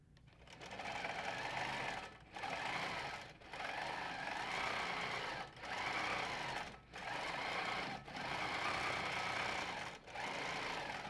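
A quilting machine stitches back over a wavy line on a landscape quilt, running in steady bursts of about a second or two separated by short pauses, close and clear with no speech.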